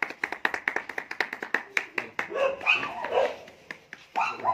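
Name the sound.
clapping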